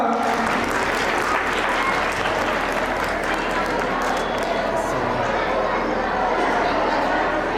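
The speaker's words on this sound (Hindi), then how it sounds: "जोरदार तालियों स्वागत करें इन बच्चों का।" Sustained applause from a crowd at a school annual function, welcoming children, steady and full throughout, with a murmur of voices mixed in.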